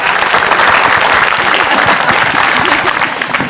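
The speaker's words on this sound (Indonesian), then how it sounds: "tepuk tangan untuk Ustadz Maulana" A crowd at a religious gathering claps for a cleric, Ustadz Maulana, with loud, dense, steady applause filling the whole stretch before tapering slightly at the end.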